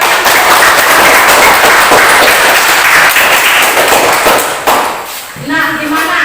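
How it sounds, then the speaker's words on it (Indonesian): Classroom of students clapping loudly together, a dense burst of applause that tapers off near the end, followed by a teacher starting to speak. "Ya, tepuk tangan."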